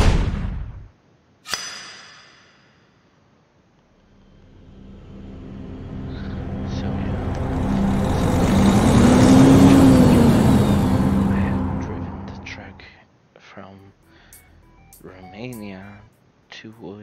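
A truck in Euro Truck Simulator 2 driving through Sweden swells from quiet into a loud, close engine roar and rumble that peaks mid-clip and fades, with speech around the start and end.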